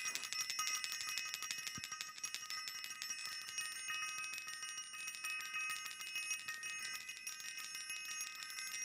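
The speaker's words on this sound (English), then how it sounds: "We gotta ring the bell." A bicycle-style bell rings continuously, a bright metallic ringing that holds steady and loud throughout with no talking.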